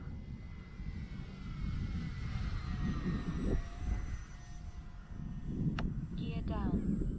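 An FMS Pilatus PC-21 radio-control model airplane drones steadily through the air at a distance, a continuous engine hum that swells and fades slightly as it passes, with a few brief clicks near the end.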